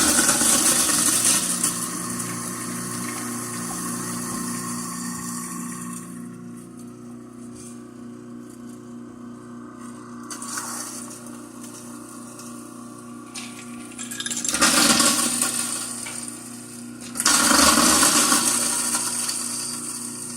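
A loud grinding, whirring motor runs continuously, with rattling bursts and surges in intensity as baking soda churns through a kitchen sink disposal.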